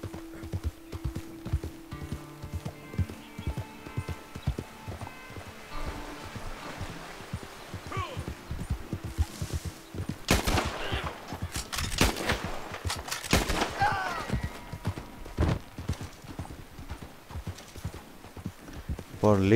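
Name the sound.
galloping horse in a video game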